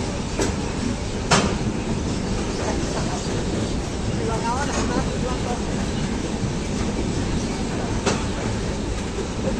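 Steady low rumble of the Una Janshatabdi Express rolling into Ambala Cantt railway station, with a few sharp clanks and hiss-like bursts over a constant noisy background.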